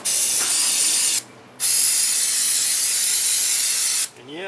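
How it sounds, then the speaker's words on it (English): Brake parts cleaner sprays from an aerosol can onto a rag in two long, loud, steady hissing bursts separated by a short pause, with a brief clank near the end. "And yeah, I'm spraying my rag too."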